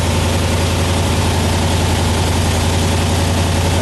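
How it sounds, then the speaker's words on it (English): A 1976 Corvette engine idles steadily and close, a dense continuous rumble with vibration and no talk, while the air-conditioning compressor runs. "Whenever it kicks on, you'll hear the engine rev a little bit."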